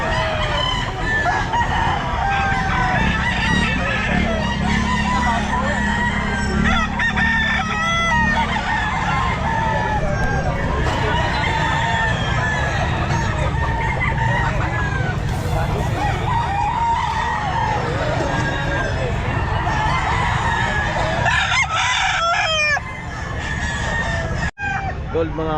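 Roosters crowing repeatedly and hens clucking at a pet market, loud and close, with people chatting throughout.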